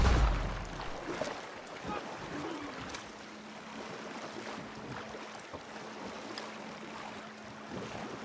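A canoe glides over water in the video game Red Dead Online, with a soft, continuous wash of water and wind-like noise and a few faint splashes or knocks, all at low level with no speech.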